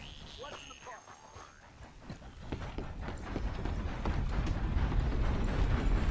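Horse hooves clip-clopping on a road in the Red Dead Redemption 2 video game, a steady rhythmic gait growing louder and nearer toward the end.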